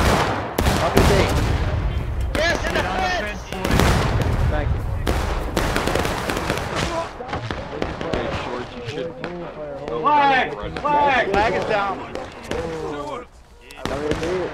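Musket volleys crack out in the Civil War game War of Rights at Bloody Lane, a ragged run of sharp close shots mixed with shouted orders and men yelling throughout.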